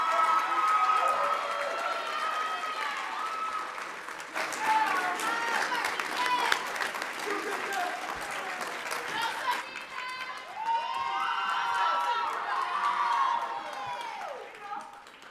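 Audience applause at an awards ceremony, steady clapping from a sizeable crowd with scattered whoops and cheers, moderately loud and sustained, with a voice speaking over it at times.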